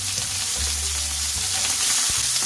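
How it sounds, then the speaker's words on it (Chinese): Squid tipped into a hot wok with ginger and celery, sizzling and crackling steadily throughout, with a low rumble as it hits the pan and a few stirring knocks. "然后炒香之后呢，我们就可以把我们的鱿鱼把它倒进来。"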